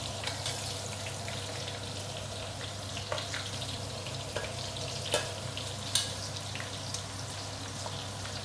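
Enoki mushrooms deep frying in hot oil give a steady, dense sizzle with scattered crackles and pops, continuing evenly throughout over a low background hum.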